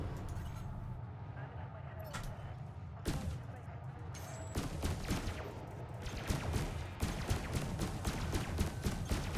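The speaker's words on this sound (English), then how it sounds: "So that's the gun underneath me, and the ones on the side also target it." Spaceship guns firing in Elite Dangerous from a Fer De Lance bounty hunter, a dense rapid stream of shots growing steadier and louder over a constant engine rumble.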